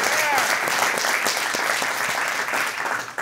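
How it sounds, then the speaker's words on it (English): Church congregation applauding during a worship service: dense sustained clapping from a large crowd filling the room, with scattered cheers and a voice speaking over it. "let's all just give a big round of applause"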